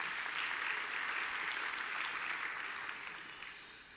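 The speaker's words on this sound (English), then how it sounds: "they too deserve a warm round of applause" Graduation ceremony crowd in a university hall gives a warm round of applause for academic and support staff. The clapping is thick but somewhat distant, and it thins and fades toward the end.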